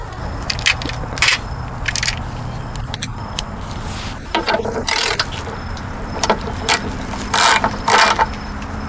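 Ratchet clicks from a 10 mm socket backing out lawn mower bracket bolts, coming in several short bursts of close metallic ratcheting with small clinks and handling noises between them.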